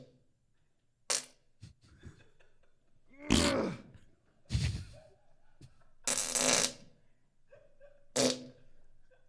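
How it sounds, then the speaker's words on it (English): Fart sounds are heard at a live panel event: six or so loud, separate bursts with short pauses between them, standing out alone without talk. "Stop farting."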